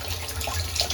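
Water flows steadily through a float valve into a portable pig waterer outdoors, a close, continuous splashing trickle with small bubbling variations and no voices.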